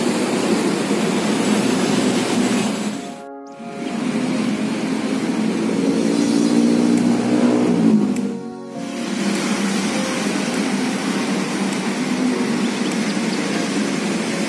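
A steady, loud bus engine rumble at a bus depot with broadband mechanical roar, briefly dropping out twice, otherwise continuous and close by.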